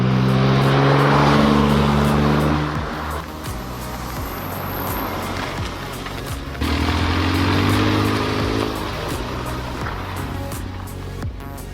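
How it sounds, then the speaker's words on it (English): A Smart car fitted with new rims drives up through a parking lot, its small engine droning and shifting pitch as it approaches and passes nearby, with a gear change and renewed acceleration midway. "I see the smart car coming"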